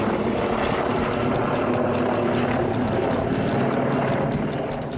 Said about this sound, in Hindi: बेलगोरोद में रूसी सेना के Mi-28N night Hunter attack helicopters लगातार उड़ान भर रहे हैं